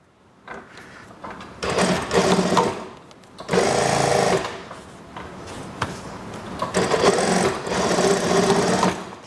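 Sewing machine stitching the plain waistband of a junior high school skirt, running in several loud bursts of steady whirring separated by short pauses.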